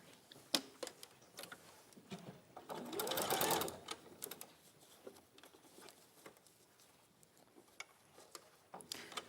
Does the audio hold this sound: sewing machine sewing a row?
yes